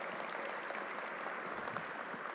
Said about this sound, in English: Let's give a round of applause to Alan Steele as well